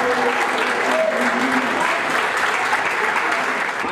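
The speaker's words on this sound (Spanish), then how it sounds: "para él pido un aplauso especial" Sustained audience applause at a Colombian music masters concert event, a dense, steady wash of many hands clapping lasting several seconds, with faint crowd murmur underneath.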